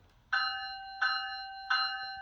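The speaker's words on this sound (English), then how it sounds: "Let's go through the E-bell." Electronic bell from a Bachmann HO scale Siemens Charger model locomotive: three clear, bright ringing tones spaced about 0.7 seconds apart, each decaying slightly, heard alone and close.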